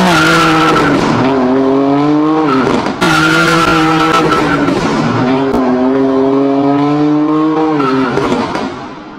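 A car on Avenida Europa accelerates hard with a loud, sustained tire screech, shrill squealing tones wavering over nine seconds with a brief break near three seconds, close and dominant with no talk.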